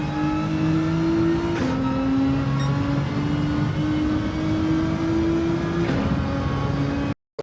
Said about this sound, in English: now you're going to see me fully accelerate as we come out of this one. And I gear up quickly